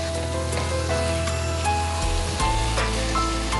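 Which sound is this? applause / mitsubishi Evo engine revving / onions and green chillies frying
onions and green chillies frying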